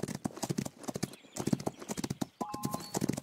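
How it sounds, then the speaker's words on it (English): Hooves clip-clop in a fast, steady galloping rhythm in the horse racing game Rival Stars Horse Racing. The hoofbeats are close and clear, with a brief whinny partway through. "A legendary horse."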